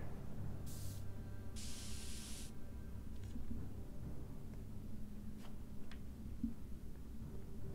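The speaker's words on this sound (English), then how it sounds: "Spray paint. Directions say to apply a thin coat and let dry." A spray paint can hisses in two short bursts in the Back to the Future video game, the second blast longer, followed by faint ticks over a quiet ambient background.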